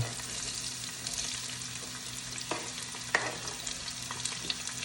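Onion, scallion and hot chili pepper sauté together in a pan, giving a quiet, even sizzle with a few sharp ticks and clinks scattered through it; no talking.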